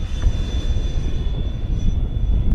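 An FMS A-10 Thunderbolt II RC model jet, 1500mm, flies past, producing a steady, broadband whooshing engine roar with a faint high whine, heard alone at moderate distance.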